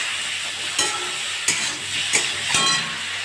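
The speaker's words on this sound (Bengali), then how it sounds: "এবার চিংড়িগুলো ভেজে নেব। নুন দিয়ে দিলাম আর একটু সামান্য হলুদ দিলাম।" Prawns seasoned with salt and a little turmeric fry in a pan with a steady sizzle, and four sharp stirring scrapes break through at regular intervals.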